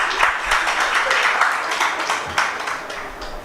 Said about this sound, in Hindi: आप चाहें तो तालियां बजा सकते हैं।